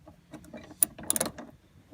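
Quick ratchet clicks while a hinge pin on a GM truck door is tightened, a short close burst of metallic pawl ticks with a few sharper snaps.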